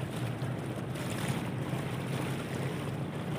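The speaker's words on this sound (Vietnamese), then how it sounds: "Bên đây có anh ghe anh chạy cát anh đang chen qua mặt mình nữa này." A sand-carrying barge motoring past on a river canal, a dense steady engine rumble mixed with water rush and wind, continuous and moderately loud.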